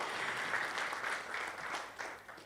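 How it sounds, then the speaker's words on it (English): A room of residents and stakeholders at a municipal annual general meeting applauds the mayor as she sits down, a dense, even round of clapping that fills the whole moment. "A round of applause for her as she sits down."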